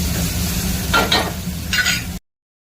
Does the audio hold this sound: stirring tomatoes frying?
yes